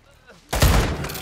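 Gunfire in Call of Duty: Modern Warfare II: after a quiet half-second, a loud, dense burst of shots erupts suddenly and holds steady to the end.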